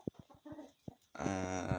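A few short soft clucks from silkie chickens, then a sustained, louder harmonic call, close by and without talking.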